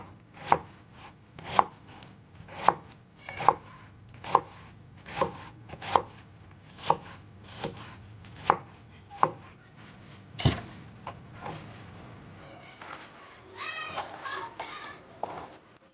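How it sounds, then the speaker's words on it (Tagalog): A knife chops onion on a board in about ten crisp, evenly spaced strikes over the first nine seconds, then a few scattered cuts and soft scraping, close and clear with no talk. "So, onion guys, ganito lang din siya ikakat."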